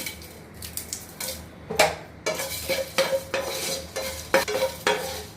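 Dry coriander seeds, cumin and dried red chillies rattle and scrape in a pan as a spoon stirs in repeated strokes, with metallic clinks and light sizzling throughout.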